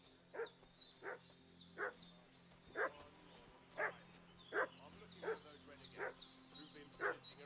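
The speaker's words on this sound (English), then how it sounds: "What's that dog making such a fuss about?" A dog in the medieval village of Kingdom Come: Deliverance 2 barks repeatedly at a regular pace, roughly once a second. The sharp barks sound moderately distant over a faint, steady background hum.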